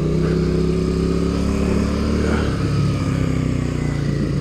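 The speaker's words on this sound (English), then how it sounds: "Have the engine running a little higher, and then I'll try letting out the clutch." A motorcycle engine, a small supermoto, runs at raised revs with a steady buzzing drone, then dips and bogs slightly as the clutch is let out, close and loud with no talking.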